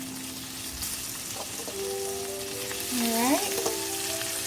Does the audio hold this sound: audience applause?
no